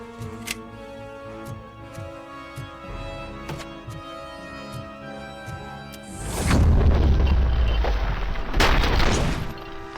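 A grenade blast in the video game RoboCop: Rogue City, a loud low boom rolling out for a few seconds after a stretch of ticking and scattered game noises, with no talk over it.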